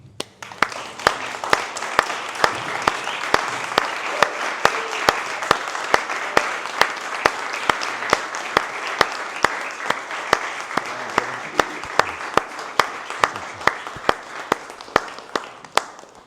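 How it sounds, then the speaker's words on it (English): A large audience applauds a speaker at a Black Panther Party Museum event for a long stretch, dense steady clapping with a few sharp louder claps standing out, loud and close. "Round of applause for Dr. Butch Ware."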